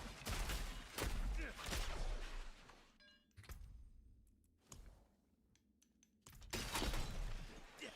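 Rapid bursts of ranged weapon fire from a Penshot Rogue in the Diablo 4 action game, loud clustered volleys separated by brief quieter gaps with small clicks and effects.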